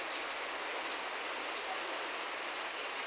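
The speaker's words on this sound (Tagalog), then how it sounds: "umuulan kasi." Steady rain falls continuously, a dense even hiss with no breaks, fairly close.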